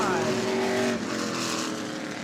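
Race cars roaring past the checkered flag at New Smyrna Speedway, back to back, a loud engine drone with a falling pitch as they pass, while an announcer talks over it.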